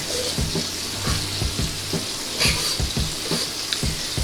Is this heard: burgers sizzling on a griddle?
yes